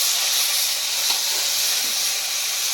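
Chopped tomatoes hit hot oil already seasoned with cardamom, cloves, cinnamon, bay leaf and whole cumin, giving a steady, loud broadband sizzle and hiss that holds evenly throughout with no talking.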